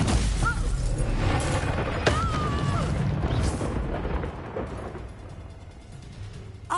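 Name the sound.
Confringo fire-blast spell explosion, Hogwarts Legacy video game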